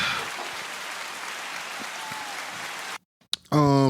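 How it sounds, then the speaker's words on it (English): A round of applause on a podcast, clapping from a small group with a wash of dense, rain-like claps that holds steady for about three seconds, then cuts off abruptly into silence before voices begin talking. "we're gonna start off with a round of applause"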